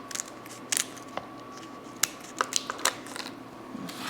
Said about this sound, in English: Scissors are going to do the trick very easily.